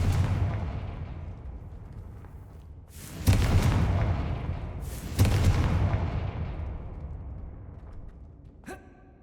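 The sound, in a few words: Confringo fire spell blast in video game Hogwarts Legacy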